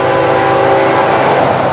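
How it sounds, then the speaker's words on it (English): Florida East Coast freight train FEC123 rolls past close and loud on an early morning, its steady rail roar mixed with a sustained horn tone. "How could you hate a train like this? FEC123 this morning."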